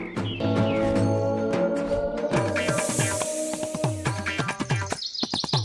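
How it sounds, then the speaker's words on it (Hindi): Baby birds chirp in a quick, busy series of high tweets over a background of music and effects, with sharp repeated calls clustering near the end. "चिड़िया के बच्चों की आवाज"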